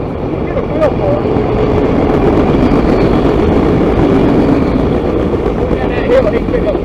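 A CSX train passes nearby with a steady, loud rumble and rolling rail noise, occasional squeals rising over it, while people talk over the sound.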